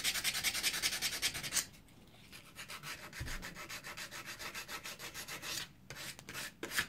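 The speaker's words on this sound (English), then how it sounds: "Sand them down." Sandpaper rubs back and forth on an old metal edge tool in quick, rhythmic strokes, close up, with two short pauses between bursts.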